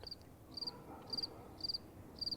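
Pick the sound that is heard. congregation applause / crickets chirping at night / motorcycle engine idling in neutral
crickets chirping at night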